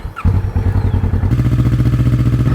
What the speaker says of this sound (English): the first step is to start the bike and let it run for a while.